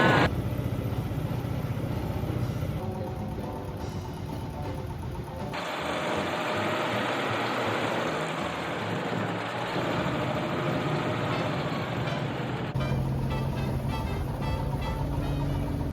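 The motorized boat on a river ride in Da Nang drones loudly and steadily the whole time, a harsh, constant engine roar with water noise and no voices.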